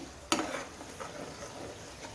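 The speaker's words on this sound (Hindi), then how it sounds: "ये मैंने सारी इसमें अनियन प्यूरे डाल दी" Onion puree goes into a hot pan for chicken changezi, opening with a sharp splash and burst of sizzle that settles into a quiet, steady frying hiss with faint stirring, heard close and softly without talk.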